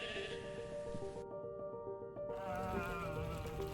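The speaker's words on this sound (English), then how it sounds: "a lone herder led his sheep across" Sheep bleating at Hustai National Park, Mongolia, being led across a narrow bridge by a herder, several wavering calls overlapping at moderate distance over a constant background hum, no talking.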